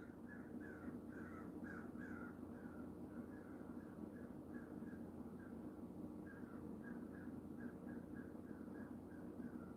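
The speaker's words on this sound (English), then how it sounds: "Do you hear the birds?" Crows cawing outdoors, a repeated series of hoarse calls at a moderate distance over a low, steady background rumble, fairly faint throughout with no voices.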